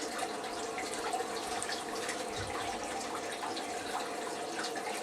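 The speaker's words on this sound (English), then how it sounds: "Figure I'd give it a speed rinse here and see what happens, see how it reacts when it's going full blast." Water rushes at full blast through a homemade blue bowl gold concentrator during a prospecting recovery test, a steady, close, even hiss and splash with no pauses.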